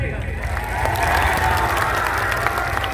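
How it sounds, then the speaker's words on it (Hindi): A crowd at an outdoor Karam festival political event bursts into loud, sustained applause, many hands clapping continuously with some cheering mixed in. "पहला बात हम चाहबो कि एक जोरदार ताली होना चाहिए नारी शक्ति खातिर।"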